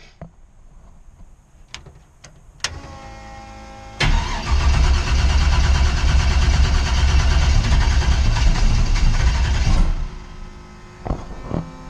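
A Ford Mustang running on E85 fuel cranks in the cold, with a few clicks and a short whir before the engine catches and roars loudly for several seconds, then cuts off abruptly. Close and loud.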